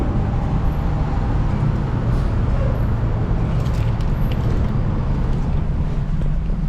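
Inside a car stuck in standstill traffic, a steady low roadway rumble and engine drone fill the scene, loud and continuous with a faint windy hiss, and no one speaks.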